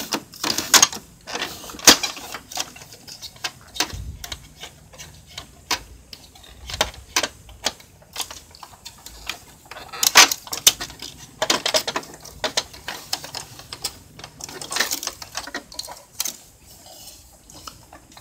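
An Epson printer runs and feeds paper, with a steady stream of mechanical clicks, ratcheting ticks and gear whirring in irregular bursts, heard up close. The printer's paper feed is faulty and pulls sheets in crooked.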